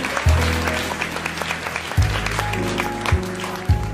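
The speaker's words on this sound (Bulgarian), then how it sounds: "аплодисменти" Audience applause at a Bulgarian business award evening honouring the businesswoman of the year 2014, with a steady patter of clapping overlaid by loud low musical tones or amplified thumps that punctuate it several times.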